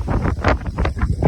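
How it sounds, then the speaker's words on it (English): Gusty wind buffets the microphone outdoors in shifting bursts, rising and falling in short rough surges with no talk. "You can hear the wind changing."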